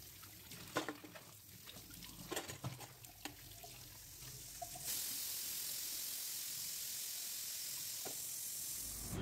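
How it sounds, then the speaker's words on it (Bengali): A pressure cooker with lentils cooking on a home stove gives off a steady, loud broadband hiss that starts partway through and holds to the end, after earlier scattered kitchen clatter. "আর এদিকে প্রেশার কুকারে ডাল বসিয়ে দিয়েছি"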